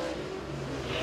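Race car engine on a qualifying lap at Tazewell Speedway, a steady loud mid-pitched roar sustained throughout the short stretch without a break.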